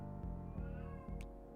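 A cat in heat meows in long, drawn-out, wavering yowls, several calls running together at moderate distance without pause.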